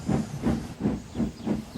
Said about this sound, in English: The guard's whistle blew, and Gordon puffed sadly away.